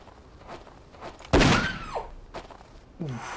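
Footsteps in the survival video game Erzurum: a few soft, spaced steps around a heavier thud, fairly quiet against faint ambient background.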